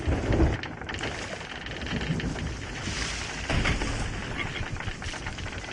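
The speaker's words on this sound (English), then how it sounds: "It sounds like there's a lot of water on the ship." Water sloshing and washing aboard a small ship in a storm, a steady broadband churn with a louder surge near the start and another midway, continuous throughout with wind and rain-like hiss.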